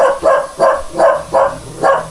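A dog barks five times in a steady, evenly spaced series, loud and close, with no other sound competing.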